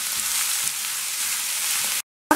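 Sweet rice being mixed in a frying pan gives a bright, steady sizzle with soft scraping stirs for about two seconds, then cuts to silence.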